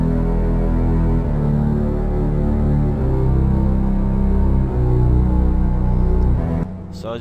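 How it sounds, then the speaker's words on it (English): A dark synthesized cello bass line from the Nexus Dark Cellos classical preset in FL Studio, a few long, thick, low sustained notes stepping downward, loud and alone before stopping suddenly. "the sound I'm using for this one is in the classical category, and the preset is called Dark Cellos."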